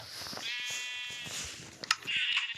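In the Minecraft video game, a sheep gives one wavering, buzzy bleat that lasts under a second. Soft game clicks and a brighter burst of game noise follow it.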